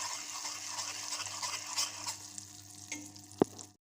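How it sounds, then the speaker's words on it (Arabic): Butter melting and being stirred in a pan for caramel, with a steady soft sizzle and scraping of the spoon, close and alone, ending in a brief sharper clink. "نرجع نحرك بهذه الطريقه حتى الزبده تاعنا تذوب تماما"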